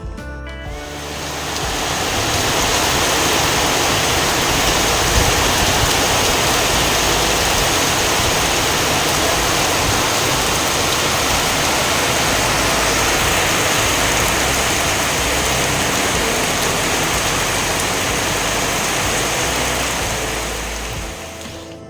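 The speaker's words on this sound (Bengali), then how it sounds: "একেবারে মুষলধারে বৃষ্টি এসেছে কিন্তু" Heavy pouring rain roars as a dense, steady wash of noise that rises in at the start, holds at full strength and fades slightly at the end, with no voices.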